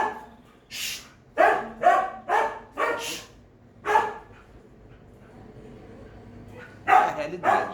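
A dog barks repeatedly at close range in a home, sharp barks in bursts with a pause before a final pair, no one talking over them.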